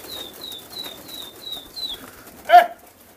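A Hyderabadi pigeon released from a loft in Old Delhi gives a run of six short, evenly spaced calls, then a brief loud burst of wing flapping as it takes off.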